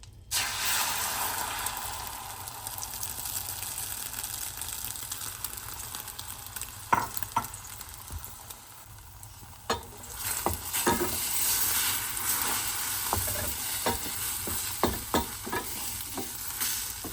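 A freeze-dried egg frying in a pan, a loud steady close sizzle throughout, broken later by a series of scraping and tapping sounds from a spatula stirring it.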